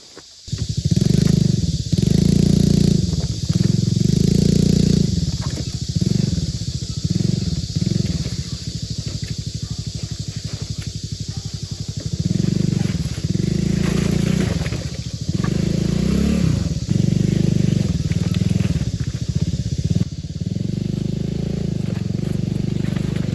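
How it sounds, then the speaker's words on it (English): A motorcycle ridden over a badly broken, rough road in Chuncheon, Gangwon-do, Korea, its engine droning loud and steady with repeated surges and rattling jolts, plus constant wind rush throughout. "My bike can't handle this anymore."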